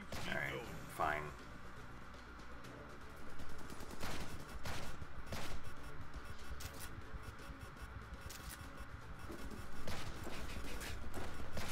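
Gunfire in the video game ProtoStrike, sharp repeated shots and bursts mixed into busy game audio, with people talking over the action throughout.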